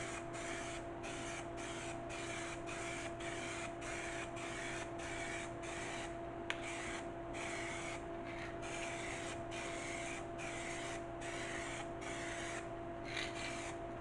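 In a paint shop, cleaned parts are spray painted in rapid repeated bursts, each a short hiss in a quick steady rhythm, over a constant background hum.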